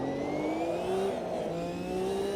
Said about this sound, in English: That turbo when it spools up